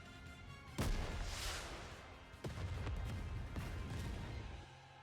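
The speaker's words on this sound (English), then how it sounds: "Vesti's rocket launcher cuts through the horde. What an explosion!" Rocket launcher blasts in a video game, a loud broadband boom followed by two more heavy bursts with rumbling tails over a continuous dense background.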